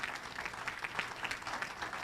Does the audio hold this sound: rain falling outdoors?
no